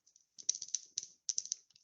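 Dice rattling inside a cloth bag as they are shuffled for a tournament group draw, a brief, faint clatter of small clicks in a few quick bursts, close by with no voices.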